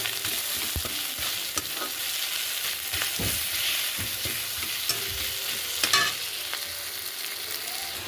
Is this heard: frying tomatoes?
yes